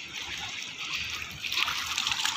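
A fast-flowing Uttarakhand mountain river rushes past near Srinagar, a steady loud hiss of churning, splashing water with brief surges and no speech.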